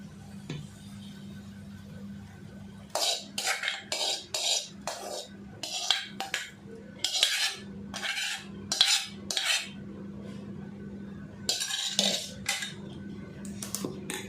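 Chopped vegetables are tipped into a rice and urad dal batter and stirred with a metal spoon against a steel bowl, giving a run of close clinks and scrapes over a low steady hum, with no voices.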